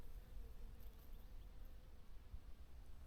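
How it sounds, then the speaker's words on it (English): Bees buzzing steadily among the blossoms of a flowering tree in a rural countryside garden in early spring, a continuous low drone heard from a short distance with no talking. "And behind me there is bees just buzzing."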